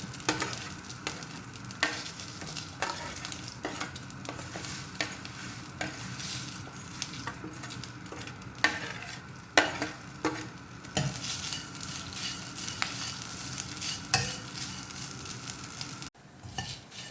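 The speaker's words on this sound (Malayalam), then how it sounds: "തേങ്ങയും മുളകും മല്ലിയും കൂടെ ഒന്ന് വറുത്തെടുക്കാം" Coconut, red chilli and coriander dry-roast in a pan, giving a faint, steady sizzle broken by regular scraping strokes of a spoon stirring against the metal, with no voices.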